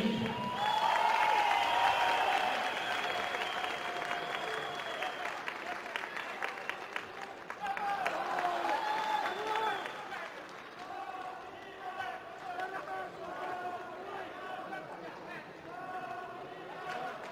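Audience applause and cheering at a women's MMA bout, a steady wash of clapping from a large crowd that swells and fades over the full length, with an announcer's voice calling out over it.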